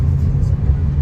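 A BMW car's engine runs with a steady, loud, low rumble that stays close and even throughout.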